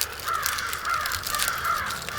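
Several crows caw repeatedly outdoors in a wooded yard, the harsh calls steady and fairly close, with no talking over them.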